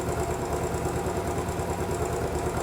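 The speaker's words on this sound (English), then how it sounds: "just there you can tell already the engine note's constant." A Royal Enfield Bullet 500 EFI single-cylinder motorcycle fitted with a Pro Racing fuel module and DNA air filter idles close by, a loud, steady, evenly pulsing thump with no talking.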